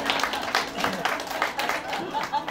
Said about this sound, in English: Can we have an applause for that, everybody?